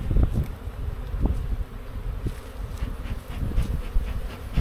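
Honey bees buzz around a hive frame in a dense, steady drone close by, with soft handling bumps and rustles mixed in.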